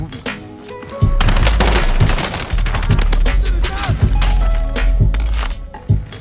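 Submachine gun fire from the video game Warzone crackles in rapid, loud bursts, dense and close, with short pauses between strings of shots and game ambience underneath.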